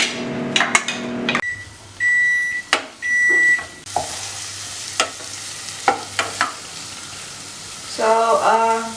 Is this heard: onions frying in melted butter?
yes